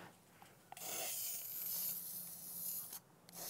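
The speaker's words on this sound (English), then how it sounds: "We're gonna go ahead and spray the, uh, the top coat from Rust-Oleum, the dead flat" A long steady hiss of a Rust-Oleum dead flat top coat aerosol spray can on decoys, held for a couple of seconds, then a brief pause and short second burst.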